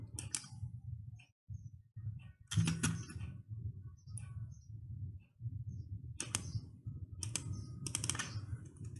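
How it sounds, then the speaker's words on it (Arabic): Computer mouse and keys click in quick clustered bursts separated by short pauses during drafting work on a computer, close and quiet against a low room hum. "انهيتها بدبل كليك"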